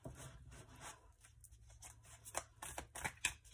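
Oracle cards being shuffled by hand for a general reading, a soft, close rustle of riffling and sliding card stock with a few sharper flicks near the end, no voices.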